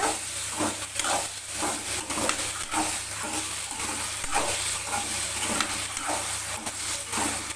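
Ridge gourd chutney ingredients sautéing in a pan, giving a steady, loud hiss and sizzle with occasional stirring scrapes, continuous and close, with no one speaking.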